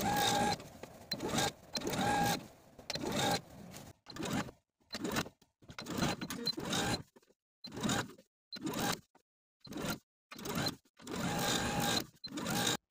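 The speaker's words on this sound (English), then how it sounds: "so just understitch as far as you can." A home sewing machine understitches a facing's seam allowance on a button-up top, stitching in repeated short bursts with brief pauses between runs, close and moderately quiet.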